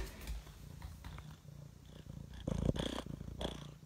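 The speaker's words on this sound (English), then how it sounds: "Can you hear him purring?" Low rumbling purr from a cat, close by, with some rustling and brief louder bursts of movement.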